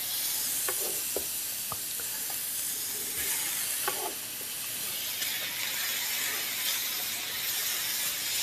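Pineapple chunks in a stir fry for sweet and sour seitan give a steady, close hiss of sizzling, with a few light stirring clicks and scrapes early on and no talking.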